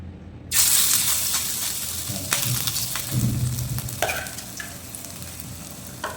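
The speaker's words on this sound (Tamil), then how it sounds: "ஓ எண்ணெய் நல்லா சூடாகிடுச்சு. இந்த மாதிரி கையில் எடுத்து போட்டுடலாம்." Onion bajji batter drops into hot oil with a sudden loud sizzle that starts abruptly and keeps crackling and bubbling steadily, close by, with no voices.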